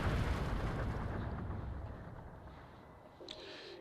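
Bug bombs exploding in the video game The Legend of Zelda: Twilight Princess HD, a heavy rumbling blast that fades over a few seconds, followed by a short bright pop near the end, no voices.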